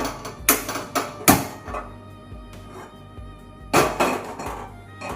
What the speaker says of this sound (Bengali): গ্যাসের ফ্লেম অন করে একটা